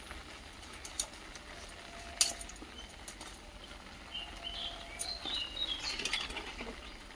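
Rain falling outdoors, heard as a faint, steady wash of soft patter with scattered drips and a few distant bird chirps, and no one talking.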